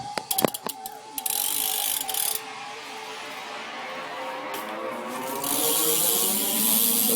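Rear hub of a BMX bike, an Animal Javelin left-hand-drive hub, ratcheting with a fast, loud, steady clicking that runs through the whole stretch, swelling louder near the end.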